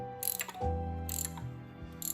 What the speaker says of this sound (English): And then I'm gonna turn it, tighten it in, hopefully should force that pin into the socket enough to pull the piston off.